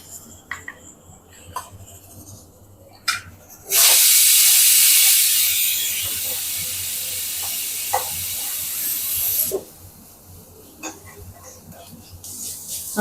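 Two spoons of ginger garlic paste hit a frying pan of browned onions and set off a loud, sustained sizzle for about six seconds, then die back to soft kitchen clatter and faint talk.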